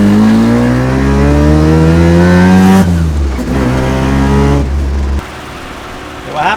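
First-generation Mazda RX-7 with a naturally aspirated engine revving hard and close, pitch climbing through the gears before dropping and settling to a lower steady tone.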